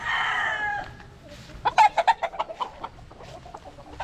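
A Papay Gray gamefowl rooster, bred from imported Gilmore Hatch over Machine Kelso parents, crows loudly and close by, then breaks into a string of clucking pulses, with light rain falling.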